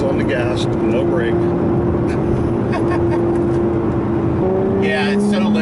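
Supercharged engine of a 2017 Lotus Evora 400 under hard acceleration, a loud steady drone with a rising whine from inside the car, punctuated by brief voices.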